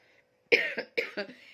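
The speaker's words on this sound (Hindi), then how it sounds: "मेरे को इतनी भयंकर खांसी हो रही है ना" A person coughs up close, four harsh coughs in two quick pairs, after a brief quiet start.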